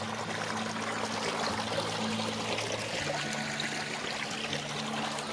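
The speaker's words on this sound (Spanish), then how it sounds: "Es el que nos da el sonido del agua de este arroyo." A stream in the countryside near Jimena de la Frontera, Spain, with water trickling and flowing steadily over its bed, a continuous gentle babble heard alone without any voices.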